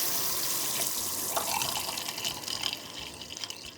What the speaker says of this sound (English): We're gonna drain out some of the water close to where we're working